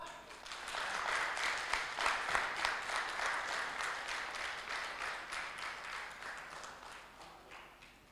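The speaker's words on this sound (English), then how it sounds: "So big clap." Audience applause for prize winners at an oncology event, a moderate, even patter of many hands that swells early and slowly tapers off toward the end, heard at some distance with no speech over it.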